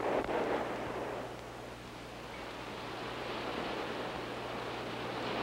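Ocean waves breaking just offshore on a sandy beach, a steady broad wash of surf with no distinct crests, fairly loud and continuous throughout with no voices.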